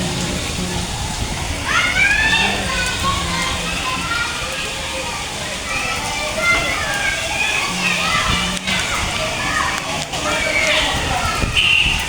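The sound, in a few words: rain falling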